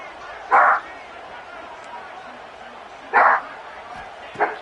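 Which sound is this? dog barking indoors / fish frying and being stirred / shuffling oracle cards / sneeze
dog barking indoors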